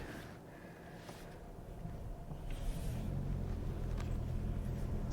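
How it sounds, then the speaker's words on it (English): A 2025 Toyota Camry XSE drives in sport mode, its engine a steady, slightly buzzy low drone that gradually swells under continuous road rumble from inside the cabin. "the engine's a bit buzzy"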